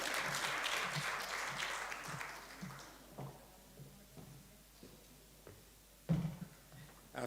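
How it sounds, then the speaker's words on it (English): A conference audience applauds a man introduced to give greetings, a thick burst of clapping that fades after about three seconds, leaving low murmurs and a few thumps. "Can I have a round of applause for him?"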